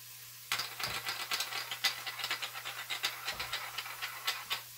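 Food sautés in a pan with a crisp, crackling sizzle that starts suddenly and keeps popping in quick irregular bursts, close and fairly quiet, over a faint steady hum.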